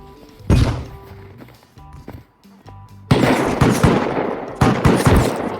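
An automated turret in Rust lets off two loud bursts of rapid gunfire, a short one early and a longer sustained volley later, with thuds and quieter game noise between.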